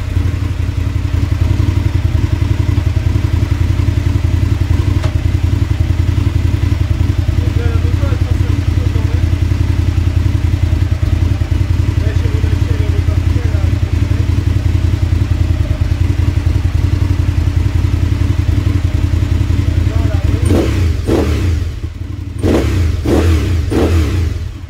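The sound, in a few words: Aprilia RSV Tuono 1000 motorcycle engine running during clutch test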